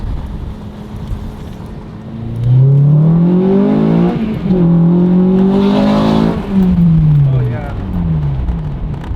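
An 8th-generation Honda Civic revs up and accelerates hard with rising pitch sweeps, loud and close, wind noise mixed in.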